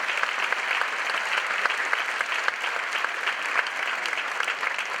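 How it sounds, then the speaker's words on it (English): Seated guests at a Chicago Go Red luncheon applaud themselves in a dense, even round of clapping that carries on steadily throughout. "just give yourselves a round of applause"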